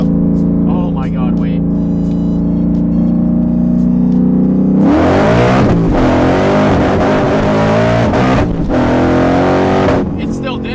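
A Mustang engine with a Holley Sniper shift-lift setup idles steadily, then revs hard, climbing and dropping in pitch as gears shift, loud and close, with voices talking over it.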